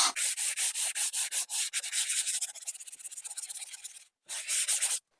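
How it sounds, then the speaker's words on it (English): Quick back-and-forth strokes of sandpaper rubbing the rough edges of a panel indoors, loud and close, in a rapid steady rhythm that speeds up, pauses briefly, then resumes for a few final strokes. "It doesn't take a lot of sanding to remove those rough edges at all."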